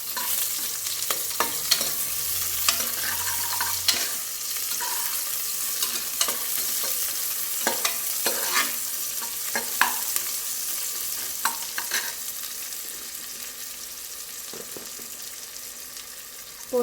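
Sliced onions sizzle in a pan with cinnamon, cloves and cardamom for vegetable biryani, a steady hiss of frying broken by frequent stirring scrapes and clicks, close and with no talking.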